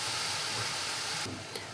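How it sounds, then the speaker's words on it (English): Water poured into a hot pan of yakisoba noodles sizzles and steams with a steady, close hiss that fades slightly near the end. "Pouring in a little water to steam and loosen the strands perfectly."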